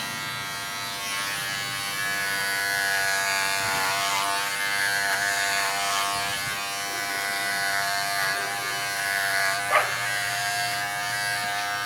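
Electric clippers trimming an animal's coat as it is readied for a show, a close, continuous buzzing hum that shifts slightly in pitch as the blades move through the hair, with faint animal sounds in the background.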